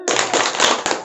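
A group does a spirit clap at a parenting session, a short burst of sharp, loud, closely overlapping hand claps in rapid rhythm lasting about a second.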